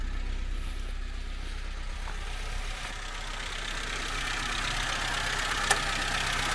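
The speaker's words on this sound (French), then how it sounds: "Voilà, moteur qui tourne très rond" A Citroën BX engine idles steadily in a low, continuous rumble, with no voices over it.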